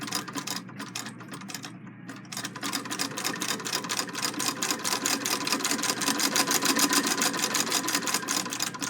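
Singer 66 lock-stitch sewing machine running, a fast even mechanical clatter that picks up speed and steadies, fairly quiet and close, with no talk.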